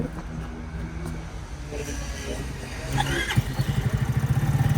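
A Motolux Cappadocia 125cc chopper motorcycle engine runs nearby, first a low rumble beneath background chatter, then a louder, rhythmic throbbing putter in the last couple of seconds.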